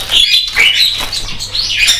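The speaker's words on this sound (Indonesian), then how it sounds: "Ini jalak Bali, jalak putih." A Bali myna, also called jalak putih, gives loud, close, harsh whistling calls in several bursts, one after another, with a faint low hum underneath.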